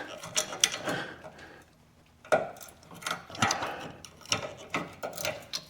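Small hand tool working a bracket fastener on a Jeep Gladiator rear fender liner, giving a run of close, sharp ratcheting clicks and mechanical snaps in short bursts with a brief pause.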